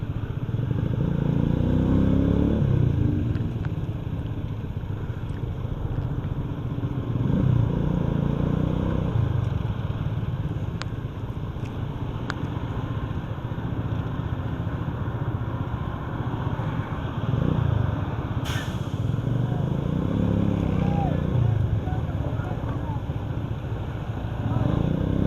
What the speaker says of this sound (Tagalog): Kaya pwede pa rin sumuot yan ng mga motor.